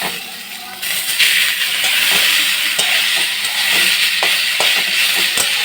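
Chopped onion drops into hot mustard oil with spices in a kadai, setting off a loud, steady sizzle and hiss that swells after a quiet start and holds close and bright, with faint clicks of stirring.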